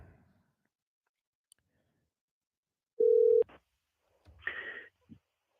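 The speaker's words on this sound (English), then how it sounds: "Goes straight to his voicemail." A telephone call connecting to voicemail, with a single steady beep tone and a few clicks, followed by brief muffled line noise, quiet and close, without talking.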